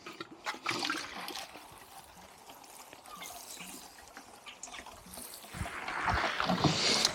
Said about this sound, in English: And now we just give it a good watering in.